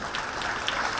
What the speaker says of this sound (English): Please students, encourage them with your claps